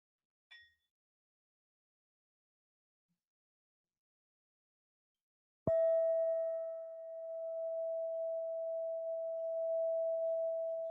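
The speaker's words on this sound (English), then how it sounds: "So I'll ring a bell and just listen." After a brief faint tap and several seconds of near silence, a meditation bell is struck once and rings with a pure, sustained tone that slowly wavers and lingers.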